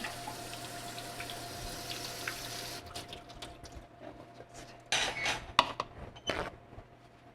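Canned beans rinsed under a running kitchen tap, a steady hiss of water that breaks into splashing and metallic clinks of the can and strainer toward the end, fairly quiet with no talking.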